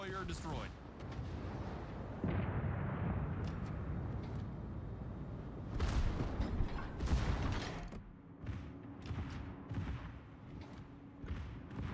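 Naval artillery salvos boom in a World of Warships battle, heavy broadband blasts and rumbling impacts repeating through the stretch, loud and close, with a voice talking over parts of it.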